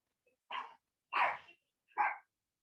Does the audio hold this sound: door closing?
no